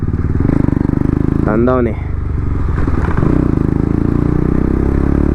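KTM Duke 200 BS6 motorcycle with an aftermarket modified exhaust, its engine thrumming steadily and loudly close by while someone speaks briefly over it.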